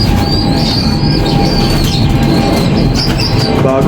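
Dense fluttering of many wings as racing pigeons arrive from a training flight, with soft bird cooing over a steady loud rumble of background noise.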